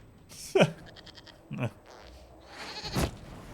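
A goat in a video game bleats three times in a row, each short wavering cry separated by about a second of quiet, fairly close and moderately loud, with no talking.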